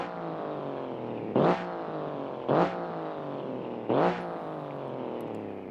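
Truck engine in BeamNG.Drive, a driving game, running with a steady close drone and revved in three short, sharp bursts spaced about a second apart, dropping back to idle between them.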